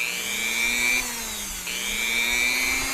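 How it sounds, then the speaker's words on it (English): A Dremel rotary tool fitted with a round carving bit runs at slow speed for inletting a gunstock. It gives a steady, close whine that dips briefly in pitch midway, then climbs back to a constant hum. "I'm going to take my Dremel tool with a round carving bit. I'm going to turn it on very slowly."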